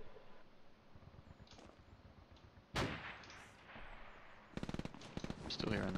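Submachine gunfire from an MP40 in the World War II shooter Hell Let Loose, heard as a loud burst near the middle and rapid clustered rounds toward the end, over a busy battlefield background.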